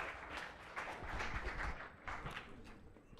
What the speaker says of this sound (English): please give a huge round of applause for Ravi